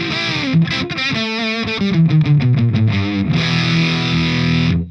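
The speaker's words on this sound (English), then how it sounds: "It starts to sound more like a fuzz, in my opinion, with this situation." Electric guitar through a Flattley Outlaw dual clean and Plexi overdrive pedal pushed into a thick, fuzzy distortion, playing a sliding run of notes before holding a buzzing sustained chord.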